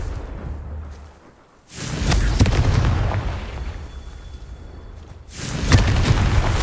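A Confringo spell is cast in Hogwarts Legacy, producing booming magical explosions: one loud blast after a brief lull, a sustained rumbling tail, then a second burst near the end.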